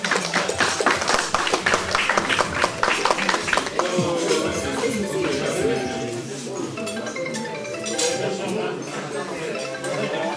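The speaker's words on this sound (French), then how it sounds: "Je vous demande de l'applaudir s'il vous plaît." An audience at an Afro-themed evening gives sharp, close claps for a singer-songwriter for about four seconds. The applause then fades under a speaking voice and background music.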